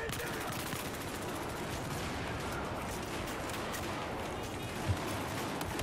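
Rapid bursts of gunfire in a Battlefield video game, dense overlapping shots crackling continuously at low level with a few louder reports.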